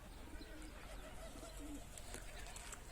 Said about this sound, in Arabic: هاي الطير اعتقد بيها يعني تريد تبيض